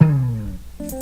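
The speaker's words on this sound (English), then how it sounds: "we also have like this little, what I call the bass drop." A short bass drop in a pop-rock track gives a deep pitched tone sliding steadily downward over about half a second, fading before a brief new note enters.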